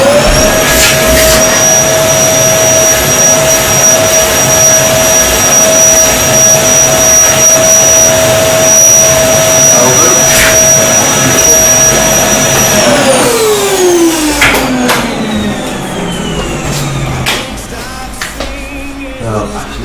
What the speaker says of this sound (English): We'll get the Hoover out.